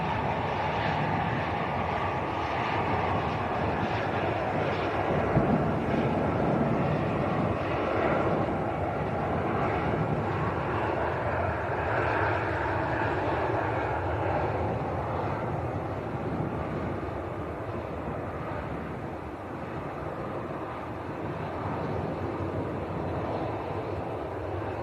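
A passenger airplane taxis and turns onto a taxiway at Leeds Bradford Airport, its engines giving a steady, broad rumble and whine that holds level and fairly close throughout, with no voices.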